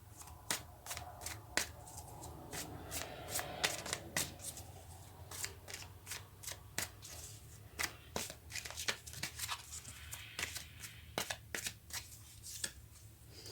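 A deck of tarot cards is shuffled up close, a quick series of crisp riffling snaps and flicks repeating irregularly for several seconds over a quiet background.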